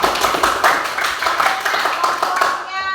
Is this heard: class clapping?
yes